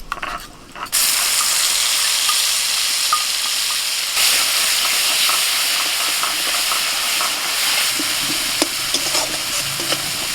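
A freshly ground spice paste hits hot oil in a kadai and erupts into a loud, dense, continuous sizzle just after the first second. It stays steady and close, with a few faint scrapes from stirring.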